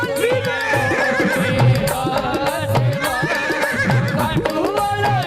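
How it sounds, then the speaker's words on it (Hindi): A horse neighs and whinnies loudly in a devotional setting for Khatu Shyam's blue steed, repeated calls standing clear with faint hoof clip-clop beneath. "लीले घोड़े असवार खाटू वालो सांवरियो।"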